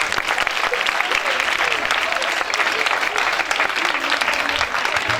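Loud, sustained applause from a church congregation praising Jesus at an annual gathering with preacher Bishop Yousaf Bhatti, dense clapping running steadily throughout without pause.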